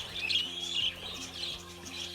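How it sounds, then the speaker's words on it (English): Several birds chirping and tweeting in quick bright bursts over a low steady hum, close and moderately loud. "As you can see, there are lovely colorful birds"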